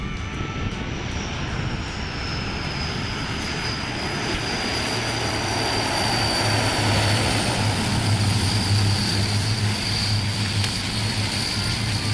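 A propeller airplane drones steadily overhead, a loud continuous engine roar with a low hum that swells slightly toward the end.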